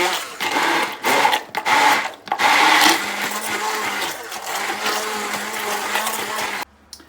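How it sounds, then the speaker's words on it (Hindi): An electric blender grinds garlic, ginger and oil into a paste in a kitchen, a loud whirring roar that surges and dips in short bursts, then settles into steadier grinding before cutting off abruptly. "लहसुन और अदरक जितना मैंने आपको दिखाया वो डाल के मैं इसको ग्राइंड कर लूँगा"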